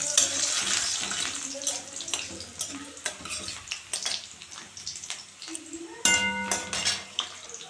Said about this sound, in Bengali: শুকনো লঙ্কাগুলো ভাজা ভাজা হয়ে গেছে এখন একটু রসুন বাটা দিয়ে দিলাম